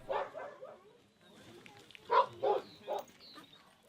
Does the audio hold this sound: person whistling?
no